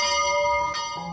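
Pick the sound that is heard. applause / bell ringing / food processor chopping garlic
bell ringing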